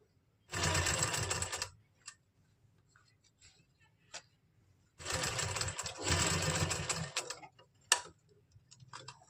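A sewing machine runs up large stitches on a pleated kurti in two loud, close bursts of rapid whirring, separated by quiet pauses with faint clicks and handling noises.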